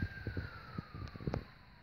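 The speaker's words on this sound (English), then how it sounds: "I hear an ambulance or a fire truck" An ambulance or fire truck siren wails faintly in the distance as one slowly falling tone over low outdoor rumble and a few soft thumps.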